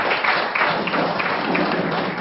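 A seminar audience in a cafe meeting room claps together, a dense and steady roar of many hands that fills the whole moment without any voices.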